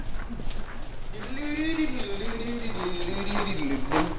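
A goat runs on a ranch, its hooves making a rapid, uneven clip-clop as people talk and shout over it.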